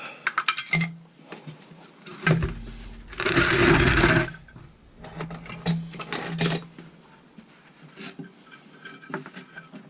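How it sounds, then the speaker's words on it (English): Spare wheel winder on a 2017 Unicorn Cadiz caravan being wound back up, giving a series of close metallic clanks and ratcheting scrapes with one longer loud burst of grinding midway. "I'm going to take it off and wind the winder back up"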